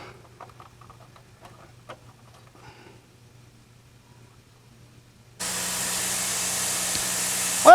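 Brake cleaner sprays into the carburetor of a 1973 Super Beetle in a steady, loud hiss that starts abruptly after several seconds of faint ticking and clicking and continues to the end.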